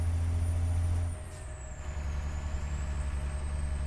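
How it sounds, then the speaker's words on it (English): A heavy truck engine in American Truck Simulator drones steadily with a faint high engine fan whine riding above it, pitch drifting slightly as the engine note drops. "I can hear a little bit of an engine fan whine"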